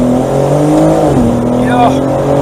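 Close up and loud, a 2022 BMW M4 Competition Convertible M xDrive with an 8-speed ZF gearbox accelerates hard, its engine note climbing and then stepping down at a gear change, with faint tire squeal near the end.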